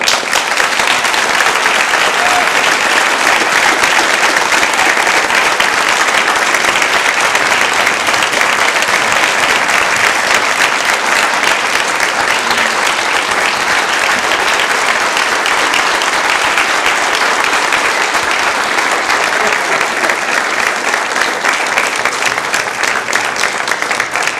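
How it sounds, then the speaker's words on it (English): Sustained theater audience applause and ovation at the dedication of the Douglas P. Goheen Theater, dense steady clapping from a large crowd filling the hall for the full stretch without a break. "this applause, and this ovation is for you"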